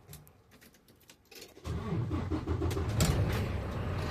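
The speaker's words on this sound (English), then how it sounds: "I go start my engine right now." A truck's engine cranks and catches before an air brake test, then settles into a steady low idle rumble close by, with a few faint clicks and rattles before it starts.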